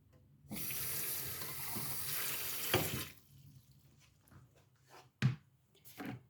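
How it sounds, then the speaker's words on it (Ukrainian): A kitchen tap runs water into a cup or container for about two and a half seconds with a steady, close splashing rush. Faint clinks and handling noises follow. "Зараз я налью собі водички."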